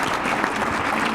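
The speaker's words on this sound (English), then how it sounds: "Everyone, a round of applause for our guests." An audience at a spring symposium fireside chat applauds its guests with steady, moderately loud clapping that fills the room, with no speech over it.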